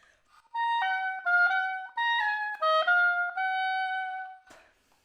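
A solo oboe works through an all-region etude passage in a short-long sixteenth-dotted eighth rhythm, played slowly and distinctly up close, with a faint click just after the last note.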